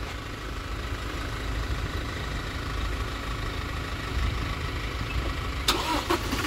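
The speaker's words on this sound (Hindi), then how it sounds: "अभी गाड़ी स्टार्ट करके देख रहे हैं।" A car engine cranking and starting at a mobile mechanic setup in Saudi Arabia: steady low mechanical rumble that rises slightly, with sharper clattering bursts near the end, heard close without talk.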